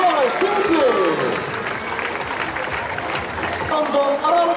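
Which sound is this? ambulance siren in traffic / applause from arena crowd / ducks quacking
applause from arena crowd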